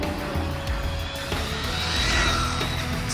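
A radio-controlled RC10T Silverpan truck's electric motor and drivetrain run steadily nearby on upgraded gearing, a continuous whining buzz with fluctuating pitch and some rattling, without any talking.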